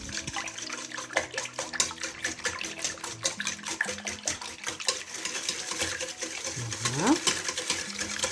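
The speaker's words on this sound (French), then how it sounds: "Et je mélange." Two eggs are whisked into donut batter in a bowl, giving a quick, repetitive, close scraping and sloshing rhythm that runs steadily throughout and is faintly overlaid with background sounds.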